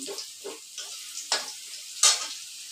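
Potatoes sizzle in hot oil in a pan, with bursts of frying crackle and a few stirring scrapes spread over a few seconds, close up and without talk.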